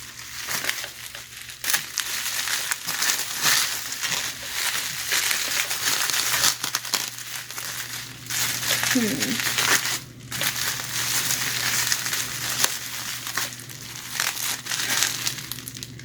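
Bubble wrap is handled during packing, making loud crinkling and crunching that comes in bursts with brief quieter pauses.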